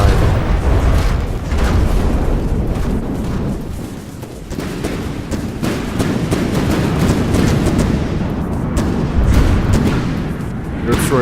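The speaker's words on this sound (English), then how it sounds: "all of its guns are online and firing" Heavy continuous barrage of naval guns firing in a video-game battle, dense rumbling booms stacking into a loud, sustained roar with sharper cracks throughout and a brief dip midway.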